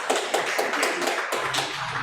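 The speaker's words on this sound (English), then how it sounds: "Please clap for this young man." An audience claps for a young scholarship recipient at a certificate award ceremony at Rift Valley Innovation Centre, Eldama Ravine, a brief burst of steady, close hand claps lasting about two seconds.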